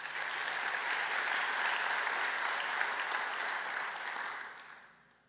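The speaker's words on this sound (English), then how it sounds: "A round of applause for them." Crowd at a city's state-of-the-city address clapping for the hosting chamber of commerce, a dense, even wash of applause from a large room that holds steady and then fades out.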